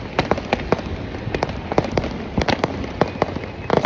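New Year's night firecrackers in Krishnagiri burst all around in rapid, irregular cracks and pops, some close and sharp, others more distant, over a constant crackling wash.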